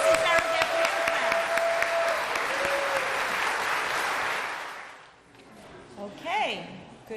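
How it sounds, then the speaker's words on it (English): A crowd at a school graduation ceremony claps steadily and loudly for several seconds before the applause drops away, followed by a voice and some brief background sounds. "Let's have a nice round of applause for Mrs."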